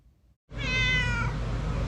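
A feral cat in a city alley or workplace gives one loud, drawn-out meow that rises and then trails off, close to the listener, after a brief silence.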